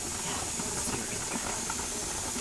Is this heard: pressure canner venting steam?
yes